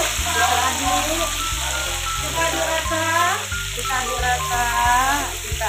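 Ground chili frying and being stirred in hot clean oil for pecel lele gives a steady, loud sizzle that runs throughout, with a low rhythmic music bed playing underneath.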